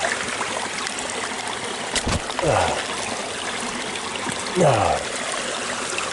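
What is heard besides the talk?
creek water flowing over rocks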